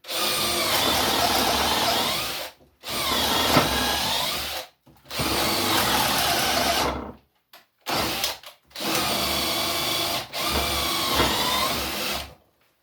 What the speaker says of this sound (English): So I'm taking my drill again. I'm going to go through here.